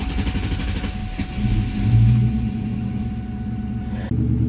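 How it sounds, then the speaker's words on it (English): A 2003 Ford Mustang GT with a 4.6-litre V8 idles in a steady low rumble, swelling briefly as the revs rise before settling back to an even idle; the sound cuts sharply near the end. "Start the car."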